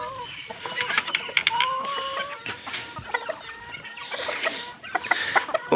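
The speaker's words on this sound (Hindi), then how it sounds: "ये सफ़ेद मुर्गी देखिए माशाल्लाह" A white hen clucks steadily close by, with more chicken clucks and squawks layered around it in a busy, continuous stretch of fowl chatter.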